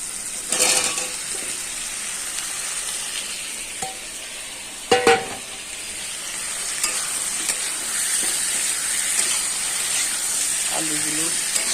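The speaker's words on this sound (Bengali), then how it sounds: "আলুগুলো ভাজা হয়ে গেলে মশলা দেবো" Potatoes fry in a pan of oil with garlic, green chilli and whole cumin, a steady close sizzle with a few sharp utensil clanks and stirring scrapes, and brief voice-like sounds in the background.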